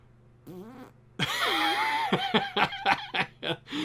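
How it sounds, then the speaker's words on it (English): A series of squelchy, fart-like bursts, one long drawn-out blast followed by several short sputters, mixed with snickering laughter, fairly quiet and close. "Literally fart noises."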